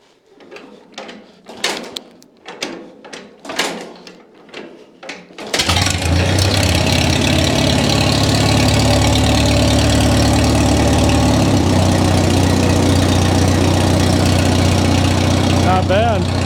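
A 1938 Case RC tractor engine is hand-cranked and starts after several rhythmic cranking strokes, then runs loud and steady at about half throttle, with a voice speaking briefly near the end.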